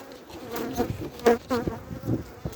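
Honeybees buzz close by around an opened hive early in the season, a wavering drone with a few louder passes as individual bees fly near.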